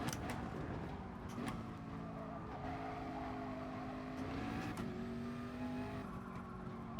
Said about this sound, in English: So now we can rev the balls off the car in the race.